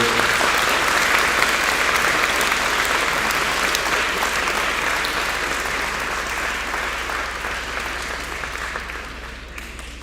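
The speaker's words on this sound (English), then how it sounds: "If we could please get another round of applause for all of the learners." Sustained applause from an audience at a certificate graduation ceremony, a dense, steady wash of many hands clapping that runs throughout and slowly tapers toward the end, with no talking over it.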